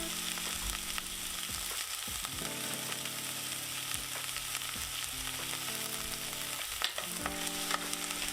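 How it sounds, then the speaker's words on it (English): Steady, dense sizzling of garlic and onions frying in a hot pan, with occasional stirring scrapes and clinks, close and continuous. "get that nice little sizzle and get it all caramelized if you can"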